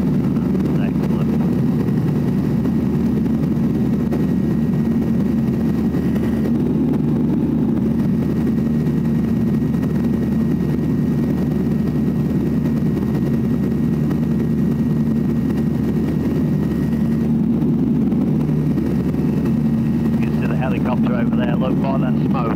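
A Falcon motor glider's engine runs at full power on its takeoff roll, a loud continuous droning hum that fills the whole stretch, with an instructor talking over it.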